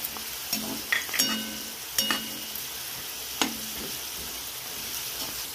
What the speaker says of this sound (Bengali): ডালটা একটু হালকা ভাজা হয়ে গেছে, এবার বাদামটা দিয়ে দেবো